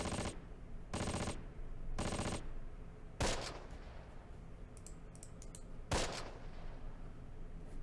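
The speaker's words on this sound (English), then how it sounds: "You could just hear those rounds hitting." Bursts of automatic gunfire from the wartime strategy game Close Combat rattle in three quick, evenly spaced volleys, followed by two sharp single impacts and scattered clicks over a low, steady battlefield rumble.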